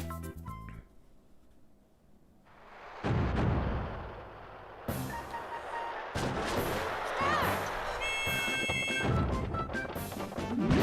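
Bombs blast one after another in Mario Party's Bombs Away minigame, a video game: a run of sharp, loud booms and thuds over a busy game soundtrack, growing denser toward the end.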